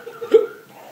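A single short hiccup from a person who has just eaten an extremely hot chocolate bar, close and fairly loud, a brief vocal gulp in an otherwise quiet moment.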